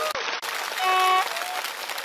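A Thai political rally crowd applauds in a brief burst of dense clapping with a few faint tones ringing through, lasting about two seconds.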